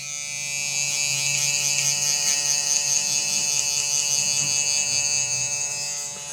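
Electric hair clippers buzz steadily and close while cutting a taper fade, a constant high-pitched motor whine with faint tone shifts as the blades move through hair, no talk.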